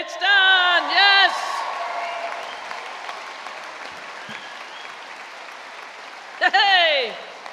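Graduation ceremony audience at a school of media, performing arts, art and design applauding steadily throughout, with loud bursts of cheering and whoops near the start and again toward the end.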